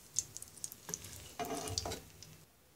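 An egg frying in hot soybean oil in a pan gives off a faint, quiet sizzle with small crackles and light tapping clicks, ending in a brief louder burst of spattering.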